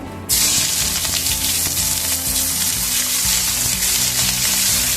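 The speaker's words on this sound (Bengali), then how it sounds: "পেঁয়াজটা আমি লাল লাল করে ভেজে নেব" Sliced onions dropped into hot oil with whole cumin in a pan for potol korma, a loud sudden burst of sizzling that settles into a dense, continuous crackling fry.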